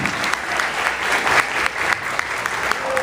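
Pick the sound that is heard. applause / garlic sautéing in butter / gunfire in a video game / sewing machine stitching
applause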